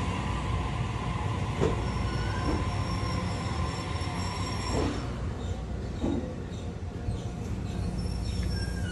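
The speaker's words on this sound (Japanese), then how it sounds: "まもなく3番線に列車が参ります" A JR HB-E300 series train, the Resort View Furusato rapid bound for Nagano, rolls into a station platform with a steady rumble and faint metallic wheel squeals, a few soft clanks along the way, with no voices.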